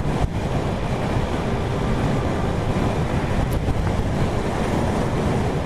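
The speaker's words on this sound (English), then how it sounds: "windy as hell out here" Strong wind roars steadily outdoors, buffeting the microphone with a constant loud rush.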